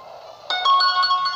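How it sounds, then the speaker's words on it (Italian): A phone notification chime arrives during a Kirby game demo: a sudden bright tonal alert with a few stacked ringing notes over a faint game-sound background, sitting close and clear. "È arrivata una notifica"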